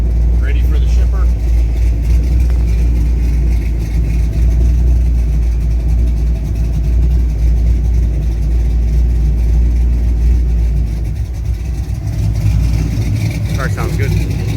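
A 1966 Chevrolet Nova's engine runs steadily at a low, rumbling idle close by, with a brief surge near the end, while people talk over it.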